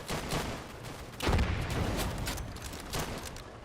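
Gunfire in the video game Easy Red 2, set in France 1940, with a heavy boom near the middle that fits an anti-tank gun shot among scattered bursts and rumbling battle noise.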